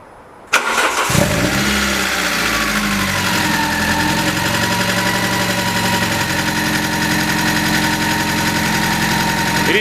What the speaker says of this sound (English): Okay, let's try and start the engine now. It will be noisy because I haven't got the full exhaust on.